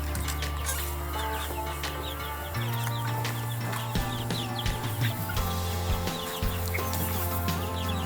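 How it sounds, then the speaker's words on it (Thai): Two-month-old Betong chickens on a small farm in Doi Saket, Chiang Mai, clucking and calling close by, a steady flock chatter with overlapping soft squawks throughout, with no speech. "นี่ครับเป็นไก่รุ่น 2 เดือนที่ เหลืออยู่ตอนนี้นะครับ"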